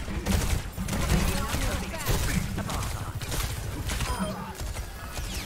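Weapon gunfire in Overwatch 2 rattles continuously in rapid, dense bursts, loud and busy throughout the match.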